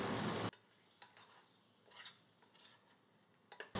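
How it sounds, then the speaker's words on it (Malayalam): Prawn pepper roast stirred in a pan with coconut oil, curry leaves and coriander, making a few soft, intermittent scraping and sizzling strokes after an opening burst of louder frying. "നല്ലതായിട്ടൊന്ന് മിക്സ് ചെയ്തെടുക്കാം."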